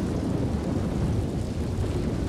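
Steady, loud rain pours throughout the video game D.R.O.N.E, a dense rushing wash with low rumbling underneath, heard alone without any voices.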